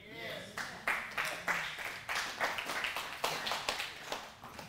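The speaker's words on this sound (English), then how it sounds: "why are those people clapping right now?" A church congregation clapping in a steady, rhythmic beat, a dense run of sharp hand claps filling the room with voices mixed in.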